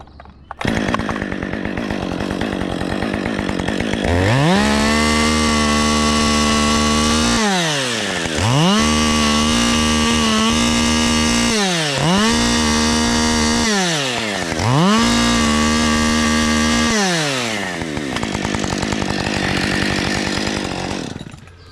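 A small chainsaw engine revs loudly and steadily, rising and falling through several cutting bursts as it works through tree branches, with no talking.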